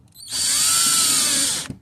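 A power drill runs screws snug into an Edelbrock 1407 750 cfm carburetor, one loud continuous high whir lasting about a second and a half before stopping abruptly, alone and close.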